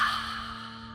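One long exhale from a person during guided meditation, a soft, breathy rush close to the ear that starts strongest and slowly fades over about a second, heard alone without talk.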